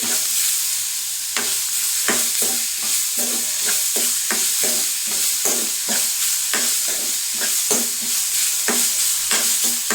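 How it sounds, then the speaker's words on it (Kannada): Chopped tomatoes fry over low heat in a pan, a steady bright sizzle with rhythmic scraping strokes of a spoon stirring through them, close and continuous with no voices. "ಸಣ್ಣಗೆ ಇಟ್ಟು ಮೆತ್ತಗಾಗಲಿ, ಇದು ಸಣ್ಣಗೆ ಇಟ್ಟು ಫ್ರೈ ಮಾಡೋಣ"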